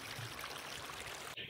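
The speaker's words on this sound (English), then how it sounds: "Starting to pump water back in." Water pumped back into a freshly cleaned-out five-acre pond, a steady close rushing, trickling flow that runs unbroken, with a brief dip and a brighter splash near the end.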